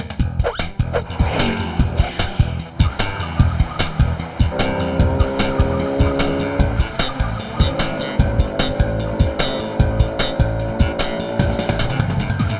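Cartoon chase with a scooter pursuing a government jeep: continuous loud racing-engine roar with tire squeals and skids over pulsing background music, no talk.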